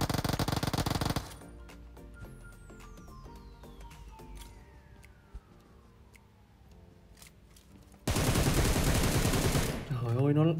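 Gunfire in the video game PUBG comes as loud rapid automatic bursts at the start and again near the end, separated by a quieter stretch with a single sharp shot.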